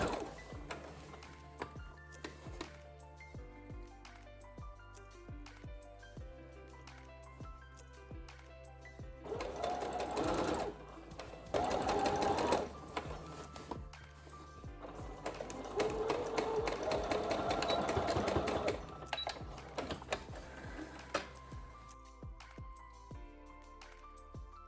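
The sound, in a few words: sewing machine attaching bias tape to a blouse armhole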